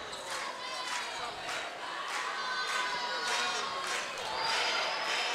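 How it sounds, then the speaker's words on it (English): Basketball fans in an arena at a women's AmeriCup game chant and sing together in rhythmic crowd waves, a broad roar of voices with clapping mixed in, steady and fairly loud throughout. "Fans already getting warmed up for the Argentina-Canada match. Singing and clapping along."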